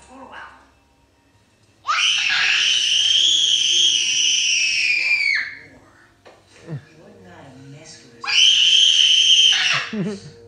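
A child screams, imitating the character Marv from Home Alone 2, in two loud sustained shrieks of several seconds each, separated by a short quieter stretch with brief sounds.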